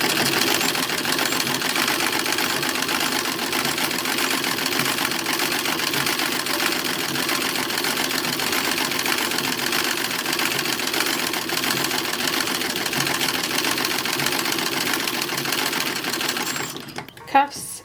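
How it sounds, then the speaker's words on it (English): A sewing machine stitches binding onto the edge of a single-layer collar for a 1920s summer dress, running in a steady, even hum for the whole stretch before stopping abruptly with a brief clunk at the end. "Alright, this is the binding getting sewn on."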